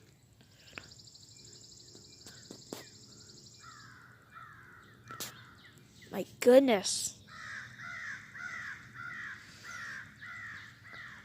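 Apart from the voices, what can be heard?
crows cawing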